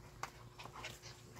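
A brown female dog that has just been swimming in the sea lets out a few faint, thin whimpers and yips over a steady low hum of background noise.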